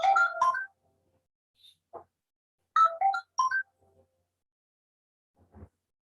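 A cell phone ringtone chirps in two short melodic bursts about three seconds apart, fairly faint in an otherwise quiet lecture room, followed by a couple of soft clicks.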